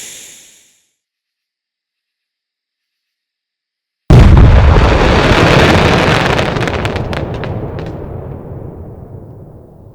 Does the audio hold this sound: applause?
no